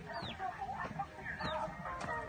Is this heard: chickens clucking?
yes